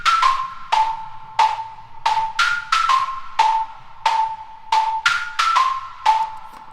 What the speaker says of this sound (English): Then I added the high pitched bell pluck things.